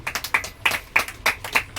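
A congregation claps together at a Sunday church service, about a dozen quick, loud, rhythmic claps in steady succession with no voices over them.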